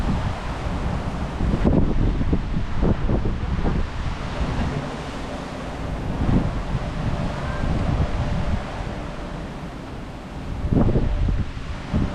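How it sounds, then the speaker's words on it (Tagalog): Strong wind buffeting a microphone outdoors in Antalya, Turkey, a loud continuous rumbling roar with gusty swells and faint background sounds throughout. "Hindi ako makapagsalita dahil malakas yung hangin."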